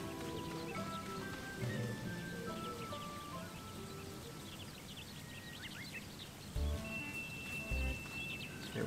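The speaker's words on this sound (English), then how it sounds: "It's raining." Steady rain falls in the video game Sakuna of Rice and Ruin, a soft continuous patter under light game music, with a couple of low thuds near the end.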